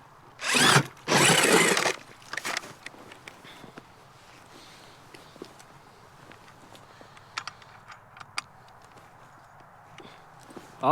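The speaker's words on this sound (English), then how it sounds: "Getting 2 holes drilled again." Two holes bored through lake ice with an ice auger while ice fishing in upstate New York in winter: two loud, close grinding bursts of about a second each, then quiet with scattered small knocks and clicks.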